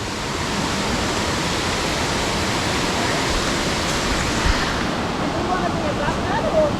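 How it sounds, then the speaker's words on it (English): Finch Hatton Creek rushes steadily nearby, a dense, loud, unbroken wash of flowing water filling the whole stretch. "that's Finch Hatton Creek just in front of us here"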